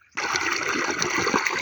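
Water gushes steadily from a 3 HP solar borewell pump with a 50 meter head, starting abruptly and then rushing loud and constant like a strong outdoor pipe discharge.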